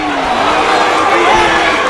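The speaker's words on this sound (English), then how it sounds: "The response of the crowd is amazing." Crowd at a live MMA bout, a 135 lb fight in its final seconds of round 3, roaring in a steady, loud wash of cheering that fills the whole stretch, with commentary voices mixed in.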